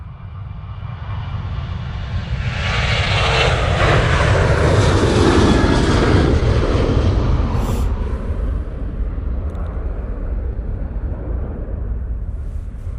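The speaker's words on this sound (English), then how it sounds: "there goes the Ryanair, and here comes the inbound aircraft" A Ryanair airplane departs Manchester Airport, its jet engines swelling into a loud broadband roar that peaks midway, then slowly fades as it moves away, heard outdoors with no talking.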